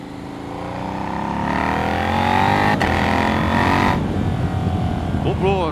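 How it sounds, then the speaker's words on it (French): Motorcycle engine climbing the Col de la Madeleine mountain road, loud revving rising in pitch through the gears with a sharp pop at a shift, then dropping and rising again. "ça pète à chaque fois que je passe une vitesse"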